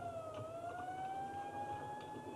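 An ambulance siren from a 1950s small-town setting heading out along Main Street, a steady rising wail held continuously at moderate distance with no voices over it.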